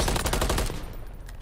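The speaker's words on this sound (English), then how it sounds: "Not with that gunfire." Rapid bursts of automatic gunfire in a Call of Duty League match crackle loudly for the first half, then thin out into scattered distant shots.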